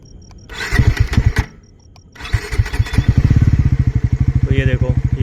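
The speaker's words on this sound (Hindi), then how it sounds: "और एक बार मैं बाइक को स्टार्ट कर देता हूँ ताकि इसकी हेडलाइट्स को ऑन कर सकूँ।" A Bajaj Pulsar NS400Z motorcycle cranks briefly, falls quiet, then starts and settles into a loud, rapid, steady idle thump close by, with someone speaking over it.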